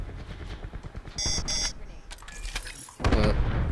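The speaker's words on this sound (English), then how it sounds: "That noise you hear is me being spotted by the enemy's Hawk" In Black Ops 4, an enemy Hawk drone spotting alert sounds as a pair of short, bright electronic beeps over gunfire and game noise, with more tonal alert bursts and heavier action following.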